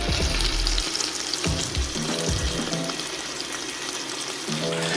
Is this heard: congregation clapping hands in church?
no